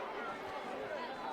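Dense crowd chatter from thousands of spectators at a girls' varsity high school soccer game, a continuous blended babble of many voices with no single one standing out.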